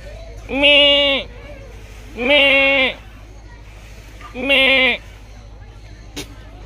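Three loud, drawn-out goat bleats sound close by at even intervals in a bird park, with a low steady hum filling the gaps between them.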